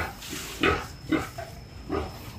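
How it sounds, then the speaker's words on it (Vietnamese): Pigs being herded from their pen into a larger, sunny enclosure, giving three short grunting squeals at a moderate distance, with quieter farmyard rustling between them. "mình bắt cái đàn heo để đưa ra cái chuồng rộng và có ánh nắng nha"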